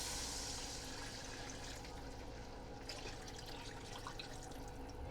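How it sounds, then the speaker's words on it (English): Water runs steadily into a cooking pot, a continuous rushing pour heard close and alone, about six cups for pinto beans. "Now I'm going to add in"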